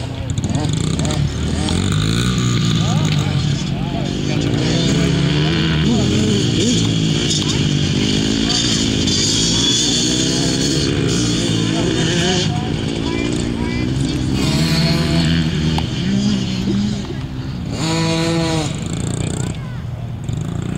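Motorcycles race in a rough scrambles event, their engines buzzing and revving loudly and continuously as bikes pass at varying distances, with a person talking over the engine noise throughout.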